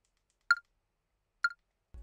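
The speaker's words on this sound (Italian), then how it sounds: "Alzo e abbasso il volume del click." Two short, sharp metronome clicks from a phone app used in an online drum lesson, about one second apart, clear and isolated, followed by a brief low thump at the end.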